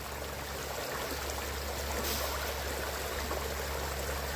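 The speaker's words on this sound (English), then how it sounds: "I do know that I'm standing along a beautiful creek" A creek flows steadily nearby, a constant soft rushing and babbling of water with no voices.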